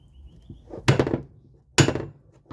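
A small hammer strikes a part on a Chinese Baumr-AG 62cc chainsaw, two loud sharp metallic blows about a second apart, with lighter taps before and after, close and hard-edged.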